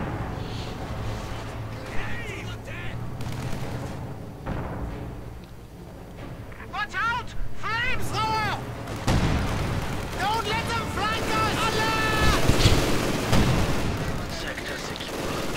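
Heavy machine gun and artillery fire from a strategy video game battle, with bursts and booms layered over a narrator talking throughout and a busy, continuous combat din that swells louder toward the end.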